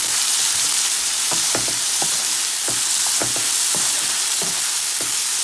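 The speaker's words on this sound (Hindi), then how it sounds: "हम इसको अच्छे से मिक्स कर लेंगे स्पाइसेस के साथ वेजिटेबल्स को।" Vegetables and spices for couscous are stir-fried in a pan, producing a steady loud sizzle with repeated scraping strokes of a spoon mixing them through, close up and without any voices.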